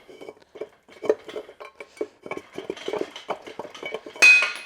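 Metal parts clink and knock in quick irregular bursts as a seized crank and rotor are worked out of a Mazda 13B six-port rotary engine, ending in a sharper, louder clank.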